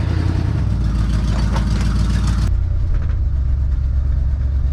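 Cabin sound of a 1976 Chevy Blazer Chalet on the move, a loud continuous engine and road rumble that drops to a lower, softer drone partway through, with no one speaking.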